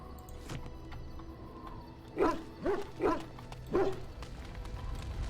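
A dog barks four times in Dragon Age: Origins, short spaced woofs at moderate volume over a quiet ambient game background, with no talking.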